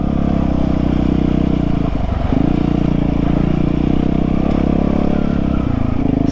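A dirt bike engine on a dirt track throttling in a steady loud drone, dipping briefly midway then picking back up, close and continuous with no talk.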